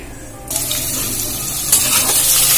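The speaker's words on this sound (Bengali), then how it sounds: "তেলটা গরম হয়ে গেছে দিয়ে দেব গোটা জিরে এতে দিয়ে দেব পেঁয়াজ আর রসুন কুচি" Whole cumin, chopped onion and garlic dropped into hot white oil in a kadai, bursting into a loud, sudden sizzle that swells again when more is added, steady and close, without talk.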